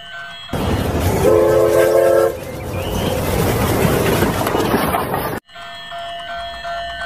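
A toy train rattles along steadily, with a brief tooting horn near the start, then the running noise cuts out and a quieter hum remains.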